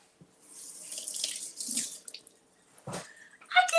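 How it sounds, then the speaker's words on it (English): Running tap water pours steadily as fresh cilantro is rinsed under the faucet at a kitchen sink, a close, continuous wash with a few brief clinks and a louder splash near the end. "So we're going to give this a little rinse."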